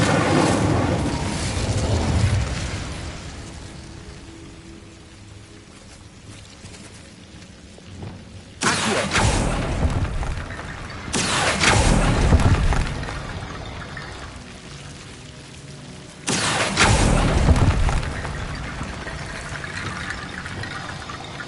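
Confringo and Incendio spells cast in Hogwarts Legacy burst out as three loud, roaring whooshes spaced several seconds apart. Between them sits a steady, washy ambient rumble, with no talk.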